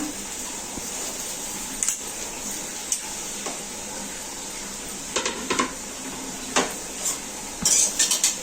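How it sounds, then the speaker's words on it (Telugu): Okra dry-roasts in a pan without oil while a utensil stirs it, giving intermittent metallic scrapes and clinks over a steady bright hiss. "బెండకాయ ముందు మనము ఇట్లా కొంచెము ఆయిల్ వేయకుండా ఇట్లా రెండు నిమిషాలు ఇట్లా వేపాలి"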